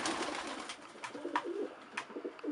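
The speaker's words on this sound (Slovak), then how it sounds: "Áno, toto sú všetko naši odchované holuby." Racing pigeons cooing inside a loft, soft repeated low coos with a few brief higher calls, close and fairly quiet, no talking.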